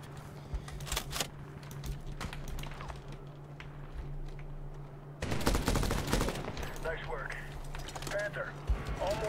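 Gunfire in the Medal of Honor (2010) video game: clicking weapon mechanisms and short bursts of shots, growing louder and denser partway through, with someone talking over the game.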